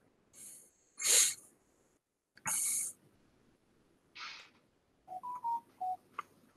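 A mobile phone sounds its notification for a newly received email, giving a few short separate electronic chimes and blips with brief pauses between them, close and quiet in a silent room.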